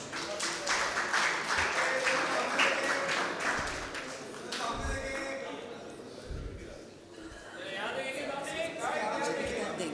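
A room full of people at a book launch claps steadily for several seconds, the applause thinning as voices chatter and talk carries on.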